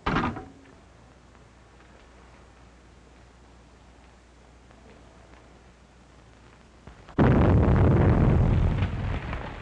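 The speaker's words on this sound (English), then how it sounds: "Explosion in 93 Madeira Drive." A loud explosion effect from an old-time radio crime drama bursts in near the end, a sudden broadband blast with a sustained rumbling tail, after a quiet stretch of low hum and faint background.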